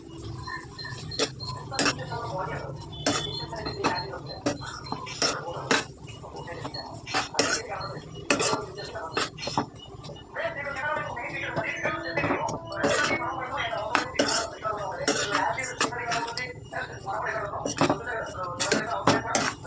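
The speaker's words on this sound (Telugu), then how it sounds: "బాగా కలుపుకోవాలి" Metal spoon clinking and scraping against a pan while stirring Andhra-style thotakura (amaranth leaf) fry with onions and garlic, irregular close taps and scrapes throughout as someone talks over them.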